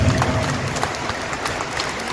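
A church congregation at a solemn Mass applauds: a soft, steady, diffuse patter of many hands filling a reverberant space.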